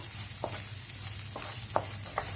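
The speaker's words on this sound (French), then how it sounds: "vous mélangez bien tout ça" Rice and minced meat stirred in a hot pan with butter, a low steady sizzle beneath light scraping strokes of a spoon at irregular intervals, close and moderately quiet.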